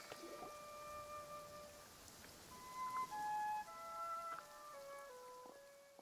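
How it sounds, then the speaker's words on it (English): Rain pours in the video game Genshin Impact as a soft, faint steady patter, with gentle sustained musical tones drifting over it and no speech. "Taking a stroll in the middle of a downpour certainly rouses the spirit."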